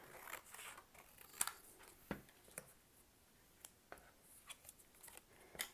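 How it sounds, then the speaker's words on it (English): Scissors cut through paper for a craft project of paper figures, with soft, scattered snips and rustles up close at low volume, no voices. "So the way I can do this to make it a little easy on myself is to just cut one single strip."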